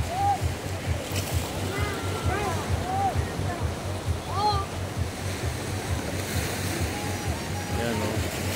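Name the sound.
ocean waves breaking at the beach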